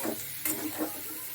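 Eggplant and potato with turmeric are stirred in a sizzling pan, with a steady hiss of frying and a couple of soft scraping strokes, brief and close.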